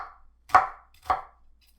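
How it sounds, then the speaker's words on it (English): A knife slices through an onion on a board: two crisp, separate cuts about half a second apart, then the start of a third, loud and close in otherwise quiet surroundings. "The way to slice the onions is very simple."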